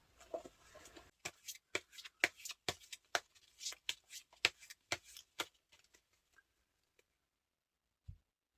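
Tarot cards are riffle-shuffled and tapped in a run of about a dozen quick, crisp snaps, close and fairly quiet, fading into silence with one faint final knock.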